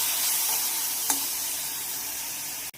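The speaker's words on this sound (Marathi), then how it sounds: "छान आत्ता तुपामध्ये हे पायनॅपलचे तुकडे फ्राय करून घेऊया" Small pineapple pieces frying in ghee for pineapple sheera give a steady, dense, close sizzle that runs without a break, with one faint clink partway through and an abrupt cut at the end; nobody speaks.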